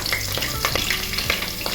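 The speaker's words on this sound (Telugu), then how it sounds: "ఇప్పుడు ఆనియన్ యాడ్ చేసుకుందాము." Onion fries in hot oil with whole spices for broccoli pulao, giving a dense, near sizzle with a few quick stirring strokes over a short stretch.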